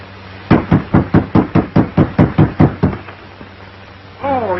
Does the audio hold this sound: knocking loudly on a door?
yes